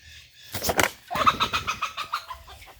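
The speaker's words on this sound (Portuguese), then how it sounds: "Olha, a galinha ainda tá chocando a gente." A brooding hen sitting on her nest clucks nearby. A short cluck comes first, then a longer run of rhythmic, throaty clucks that fade out, with no talking.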